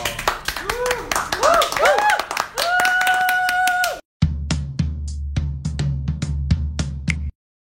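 People talk, then podcast hosts at the start of an episode break into a short burst of about a dozen crisp, close hand claps that stop abruptly.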